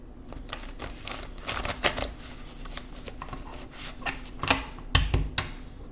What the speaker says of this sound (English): I'm going to shuffle again just for authenticity for the collective